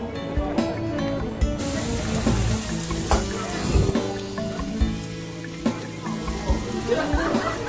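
Fried potatoes in a large pan, sizzling and crackling steadily with scattered pops and stirring clatter, fairly close.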